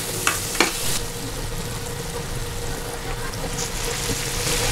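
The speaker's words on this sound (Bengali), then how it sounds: "আমি একসাথে তেলের মধ্যে রান্না করে নিব" Helencha greens fry in hot oil in a pan, a continuous hiss and crackle with a couple of sharp stirring clinks near the start, steady and close.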